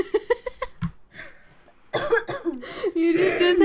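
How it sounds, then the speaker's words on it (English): Several people coughing in a group, a rapid run of short harsh coughs followed by louder bursts, mixed with chuckling and talk as voices overlap near the end. "I can't stop coughing"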